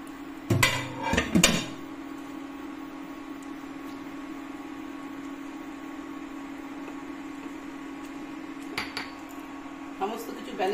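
A metal pot of chicken gravy being covered and stirred: a few sharp clanks of lid and utensil at the start, then a steady low hum, with faint clinks returning near the end.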